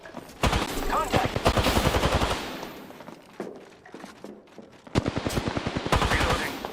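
Rapid automatic gunfire from the video game Apex Legends rattles in loud bursts with short pauses between volleys, alongside in-game sounds.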